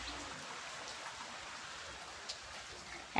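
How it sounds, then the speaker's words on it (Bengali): Steady monsoon rain falls without pause after a night-long downpour, a continuous even hiss with a few louder drops, close and unbroken by voices. "এখনও বৃষ্টি হয়ে যাচ্ছে"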